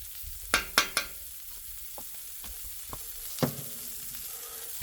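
Green onions frying in bacon fat for bacon fried rice, a steady close sizzle with a few sharp utensil clacks and scrapes scattered through it, no one talking.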